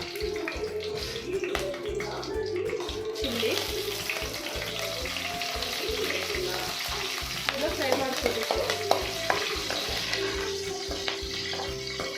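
Cabbage palya fries in hot oil with a loud, close, continuous sizzle, while a spoon scrapes and stirs through it in irregular strokes; a voice is faintly present at times.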